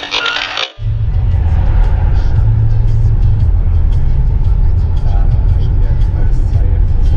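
Low, steady engine and road rumble inside a car moving along Krasnoarmeyskaya street in a Kuzbass city, continuous and fairly loud under people talking.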